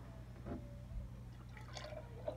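Milk is poured out of an overfilled glass canning jar in a few quiet drips and small splashes against a low steady background hum.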